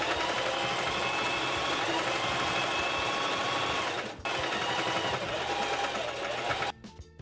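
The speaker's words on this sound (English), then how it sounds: "we'll sew both pairs together along the large curve on the back at a half inch seam allowance" Sewing machine stitching hood panels of a hoodie along a curved back seam, a fast steady close-up whir with a brief pause before running on and stopping.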